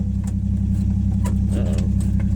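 A 1962 Rambler Classic's engine runs close and loud as the car backs up in reverse, a constant low rumbling drone with faint knocks and scuffs over it.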